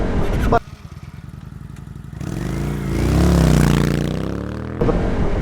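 A Honda PCX 125 scooter rides along a dimly lit road at night, its engine droning and rising in pitch as it accelerates, with wind and road noise close by and brief talk at the start.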